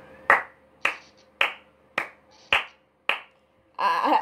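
Six sharp, evenly spaced hand claps ring out close and alone, followed by a brief burst of louder noise, from someone getting nervous while playing a scary game.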